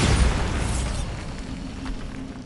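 A Bombarda explosion spell in Hogwarts Legacy goes off with a single heavy, loud boom that crackles at first and then rumbles away over a couple of seconds.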